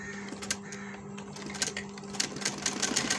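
A sewing machine runs stitches right along the edge of the buttonhole placket on a men's kurta neckline, with a steady close mechanical whirr and rapid clicking pulses throughout, no talking.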